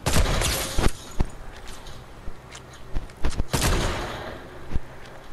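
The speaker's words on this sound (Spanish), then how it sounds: "Ese disparo fue innecesario, pero presioné el botón sin querer" Gunfire in the video game Fortnite crackles in several loud, sharp reports and short bursts, with mechanical clicks and rattles between them in a busy battle-royale soundscape.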